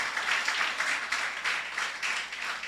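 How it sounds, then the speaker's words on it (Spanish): A church congregation gives a sustained round of applause, many hands clapping in loose rhythmic waves that swell and ease, filling the room without speech. "bien puedes darle una fuerte ofrenda de aplauso"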